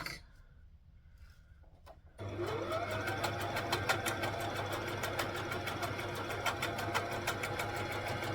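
A domestic sewing machine stitches a stretchy rash vest, starting after a quiet moment and then running continuously in a fast, even rhythm of needle strokes, close and clear.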